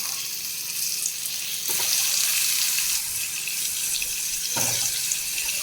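Cauliflower frying in hot oil with turmeric gives a steady close broadband sizzle throughout, with brief louder bursts as pieces are added or shifted.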